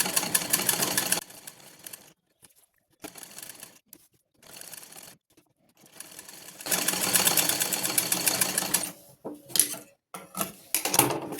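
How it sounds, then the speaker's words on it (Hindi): Short runs of a sewing machine stitching along the edge of buckram for a short kurta, loud and close, starting and stopping several times with a longer steady run near the end. "बुकरम के बिल्कुल किनारे किनारे पे सिलाई लगाना"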